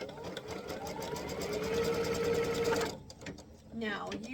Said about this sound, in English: We're going to lay it right sides together, or print side down once more, and we're going to stitch this down.